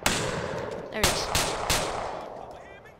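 Gunshots in GTA IV ring out as a few sharp cracks close together, each followed by a short decaying echo, with faint background city ambience between the shots.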